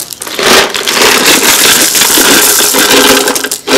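A loud, continuous rattling rush of small pebbles, used as pie weights for a cinnamon apple tart, pouring and clattering together, close up and steady for several seconds.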